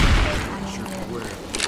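Gunfire in Left 4 Dead 2 on the Death Toll custom map, a busy mix of muffled shots and booms with voices talking over it, ending in a brief sharp burst near the end.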